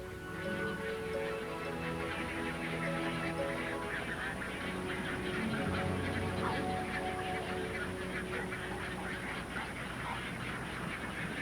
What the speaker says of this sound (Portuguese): A vida explode nos Llanos quando centenas e centenas de pássaros voltam aos seus locais de postura.